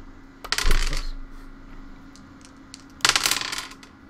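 Percentile dice tumbling onto a hard tabletop during a Dungeons & Dragons game, two short clattering rolls about two and a half seconds apart with rattling bounces, close and fairly loud against a quiet room.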